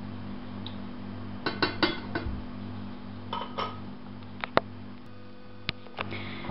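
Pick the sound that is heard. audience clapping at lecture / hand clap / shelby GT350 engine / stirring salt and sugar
stirring salt and sugar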